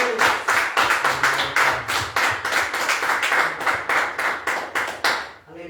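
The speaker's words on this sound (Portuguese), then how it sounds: "Vamos dar mais uma salva de palmas para Jesus" A church congregation applauds Jesus in steady, rhythmic unison clapping with dense, even beats that go on for several seconds before fading at the end.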